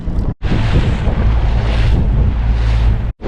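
Strong wind buffeting the microphone on a fishing boat out in the Gulf near gas platforms during a choppy, rough tide change, a loud continuous roar with water noise and brief dropouts.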